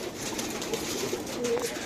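Pigeons at a large flock loft coo in soft, low repeated calls over a steady ambient background, fairly close and moderate in level across the short stretch.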